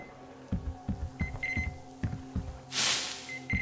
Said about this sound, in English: Beepy beeps, yes?